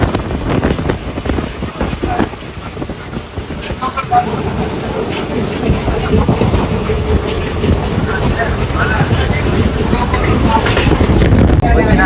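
A continuous rumbling roar of a train running on its tracks, growing slightly louder, with faint voices mixed in.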